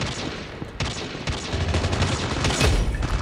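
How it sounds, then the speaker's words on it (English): A sniper rifle shot in the mobile shooter Call of Duty Mobile, a sharp report within a dense wash of continuous game gunfire and noise, with no talk. "I just instant sniped that guy."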